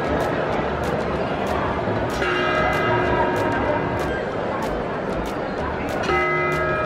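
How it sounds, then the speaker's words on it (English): The clock tower bell in St. Mark's Square, Venice strikes the hour, ringing repeated clear tolls over a bustling outdoor crowd and voices, the strokes spaced evenly and resonating. "clock just struck 4"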